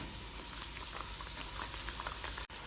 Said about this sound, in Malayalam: ഇനി ഇത് മറ്റേ കയ്യിലേക്ക് എടുത്ത് ചൂടായ എണ്ണയിലേക്കിട്ട് പൊരിച്ചെടുക്കാം